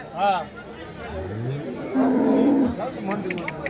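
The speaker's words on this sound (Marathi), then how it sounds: "ही लाल कंधारी या जातीची गाय आहे." A Red Kandhari cow moos a couple of times nearby at the Loni cow market, low drawn-out calls with faint voices in the background.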